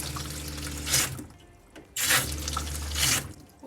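Water runs from a tap into the shower of a Toyota Coaster bus conversion in three bursts, each starting and then easing off, close by and fairly loud with no talking.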